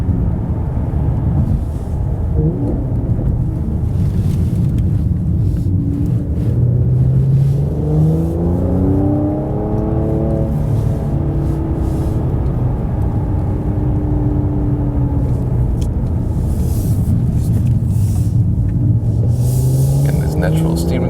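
A Mercedes C43 AMG facelift drives through corners with a steady engine drone that rises and falls through shifts and acceleration, heard from inside the car under continuous talk.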